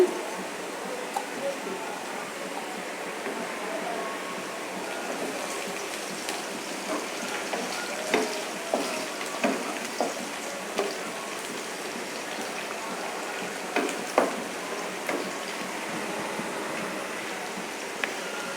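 Fried onions and about ten green chillies sizzle steadily in a pan while beef rezala is being cooked, a dense crackling hiss with scattered sharper pops. A voice speaks over it.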